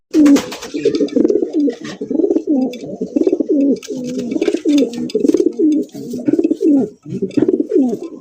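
Close, loud racing pigeon cooing in long continuous throaty rolls, repeating steadily with brief pauses.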